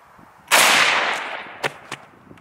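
A 12 gauge shotgun fires a Hornady SST sabot slug in one loud, sharp blast that rings out and decays over about a second, followed by a few faint clicks and knocks.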